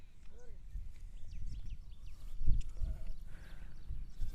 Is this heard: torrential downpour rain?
no